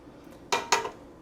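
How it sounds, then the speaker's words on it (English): A tasting spoon clinks twice against a pot of honey baked lentils, two short, bright metallic taps close together, close by in an otherwise quiet kitchen. "I'm going to go ahead and get a tasting spoon now and give this a quick taste"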